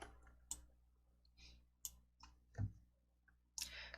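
A computer mouse clicks a few times at irregular intervals, with sharp, quiet, close taps separated by near silence.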